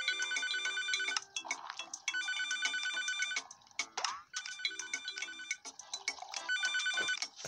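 A telephone in the cooking game Papa's Mocharia rings in repeated electronic bursts, loud and close, with brief breaks between rings and no talk.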